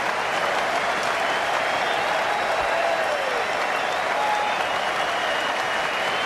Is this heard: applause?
yes